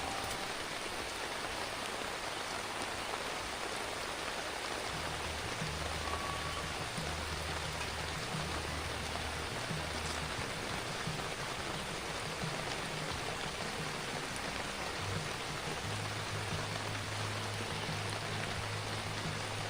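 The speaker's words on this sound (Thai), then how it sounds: "หมายถึงฝนตกอย่างเงี้ยถึง5 ทุ่ม" Heavy rain drums steadily on a tent at night at a campsite in Saraburi, a dense continuous wash of drops with no break, with a faint low hum underneath and no talking.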